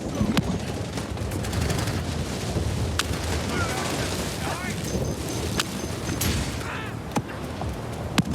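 Dense, sustained gunfire and explosive booms from the video game The Division 2 during a Broken Wings raid dam run, with sharp shots and bursts continuing throughout, mixed with game sounds and a voice talking over it.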